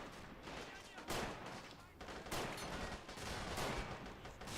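Repeated anti-tank rifle shots and impacts striking a Panzer 1 tank in a World War II strategy game battle, a dense run of loud bursts with sharp onsets around one, two and a half and three and a half seconds.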